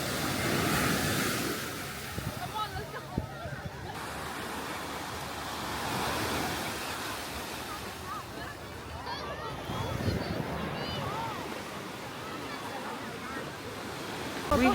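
Ocean surf washes onto a beach in a steady, broad wash of noise with swelling rushes, a breezy outdoor setting with some wind buffeting the microphone throughout.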